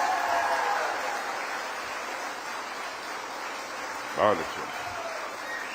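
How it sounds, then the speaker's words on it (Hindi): Applause from an audience at a defence technology hub launch event, a broad crowd of hands clapping steadily. A brief spoken exclamation cuts in near the end. "एक बार इन दोनों बच्चों को खड़े होकर तालियां बजाकर आप लोग अपनी शुभकामनाएं दें।"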